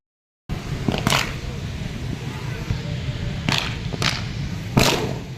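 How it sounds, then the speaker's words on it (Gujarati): Firecrackers bursting at a crowded Dev Diwali fair on a chowpatty, a few sharp cracks spaced irregularly over a steady outdoor crowd murmur, some near and loud, others softer. "કેટલું માણસ છે કેટલા ફટાકિયા ફૂટે"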